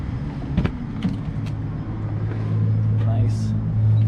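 A 2004 Jeep Wrangler SE 4x4 being driven, its engine rumbling low and steady and growing slightly louder toward the end, with a few knocks and clicks early on.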